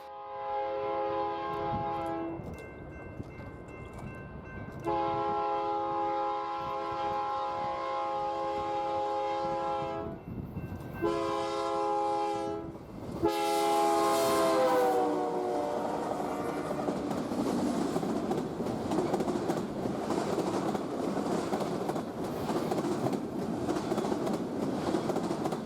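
A BNSF freight train rolls past on the Southern Transcon, its multi-tone horn sounding loud in several long blasts, then steady rumbling and rail clatter fill the rest of the pass.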